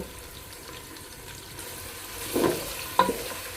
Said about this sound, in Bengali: পেঁয়াজ কাঁচামরিচ আর হচ্ছে গরম মশলা তেজপাতা একসাথ করে আমি ভেজে নেব